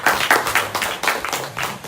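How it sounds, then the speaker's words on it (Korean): An audience at a political party talk gives a short burst of clapping, uneven and fairly close, fading within two seconds. "박수 한번."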